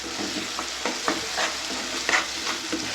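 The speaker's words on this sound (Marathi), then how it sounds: "शिमला मिरची शिजण्यासाठी वेळ लागतो, त्यामुळे ते देखील मोठ्या आचेवरती परतायचं" Green chillies and capsicum for pav bhaji sauté over a high flame with a steady, dense sizzle. Intermittent spoon scrapes and stirring clatter come close up.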